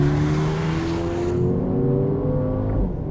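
A Mercedes-AMG A35 with a 7-speed gearbox accelerates hard, its engine note climbing steadily and loud from inside the cabin, then cutting off sharply as a gear change arrives near the end, with no talking.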